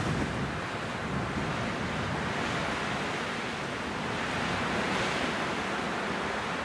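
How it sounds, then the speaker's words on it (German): Strong wind roars steadily across a mountain summit, a loud, unbroken gusty rush buffeting the microphone throughout with no voices heard. "da pfeift der Wind jetzt ganz fürchterlich"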